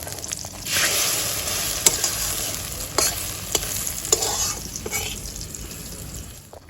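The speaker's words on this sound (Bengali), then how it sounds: "আমাদের ডিম ভাজি হয়ে গেল, ডিমের অমলেট উঠে নিচ্ছে।" A village-style egg omelette sizzles in a pan, a bright steady frying hiss broken by several scraping spatula strokes and clicks, close and without speech.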